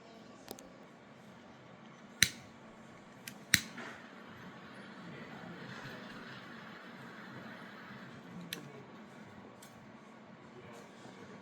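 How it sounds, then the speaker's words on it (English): Tip of a Cuban San Cristobal cigar being cut, a few sharp isolated snips and clicks standing out against faint background noise. "We'll get it cut and get it lit."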